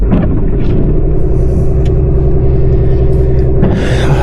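Loud, steady engine rumble from a four-wheel-drive recovery truck driving on snow and ice, with a low continuous drone throughout and a brief hiss near the end.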